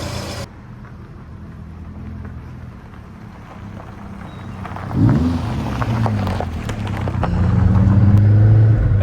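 A 1991 Saab 900 Carlsson with a turbocharged engine on the move, a steady low engine drone under broad road and wind rush from inside the cabin, swelling louder as the car picks up speed.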